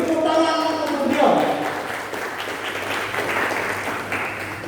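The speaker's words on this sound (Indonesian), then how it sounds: "beri tepuk tangan untuk beliau" An audience claps at a book discussion held for the IPNU 67th anniversary. A voice speaks briefly, then a steady burst of applause follows and fills the room for several seconds.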